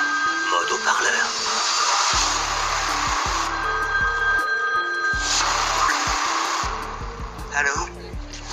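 A telephone rings in a scene from a French-dubbed Colombian crime drama, a repeating electronic ring tone in evenly spaced bursts under continuous narration and background sounds.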